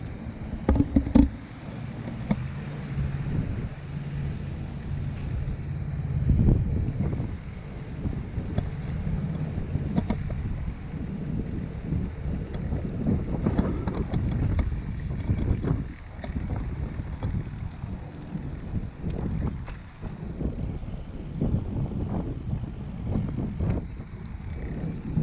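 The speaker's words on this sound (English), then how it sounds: "except for when the wind comes up and it gets really blustery" Gusty wind buffets the microphone during a recumbent bike ride along a creek trail, a steady low rumble that swells and surges in blustery waves for the whole stretch, with no one speaking.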